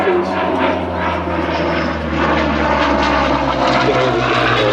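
A Supermarine Spitfire Mk Vc propeller aircraft at the Sywell Airshow 2024, its piston engine a loud, steady, rich drone held throughout with no break.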